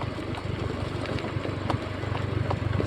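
An automatic scooter engine putters steadily at low revs with light clattering on a steep night trail ride, running continuously and fairly close.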